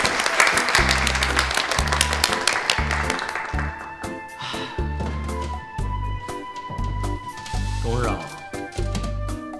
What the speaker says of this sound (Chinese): 掌声太突然了